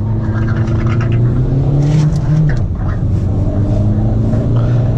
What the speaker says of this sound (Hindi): तो अब हम करेंगे 0 to 100 और 2500 RPM से गाड़ियों को उठाएंगे।